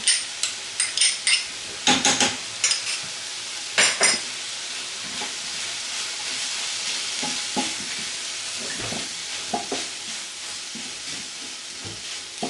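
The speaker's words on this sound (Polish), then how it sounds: "Dodaję koncentrat pomidorowy i mieszam." Tomato paste stirred into sizzling vegetables makes a loud, dense frying hiss, cut by bursts of spoon-on-pan scraping at the start that ease into steady sizzling with occasional soft knocks, no talk.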